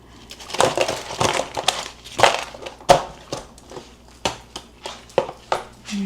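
Food is mashed in a kitchen during meal prep, making repeated close, crunchy squashing impacts at an uneven rhythm, with a faint voice now and then.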